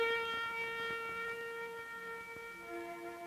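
An ambulance siren wails in a sustained, steady tone, moderately loud and unbroken, with no voices over it.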